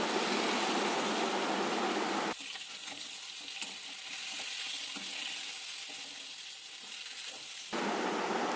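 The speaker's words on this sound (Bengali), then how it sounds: "ইলিশ মাছ ভাজা খেলে তখন একদম কড়া করে ভাজতে হয় এই দেখো এদিকে ইলিশ মাছটা ভাজা হয়ে গেছে" Hilsa fish frying crisp in hot oil, a loud continuous sizzle that drops to a softer crackle for several seconds before the full hiss returns.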